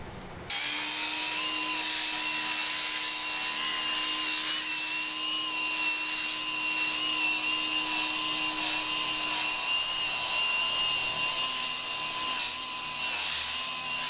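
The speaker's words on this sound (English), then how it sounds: "I'm gonna try a 5-inch grinder with 40 grit sandpaper" A 5-inch grinder fitted with 40 grit sandpaper sands Corian solid surface, giving a steady, loud high-pitched whine with a low hum that runs unbroken from just after the start to the end, with no talking.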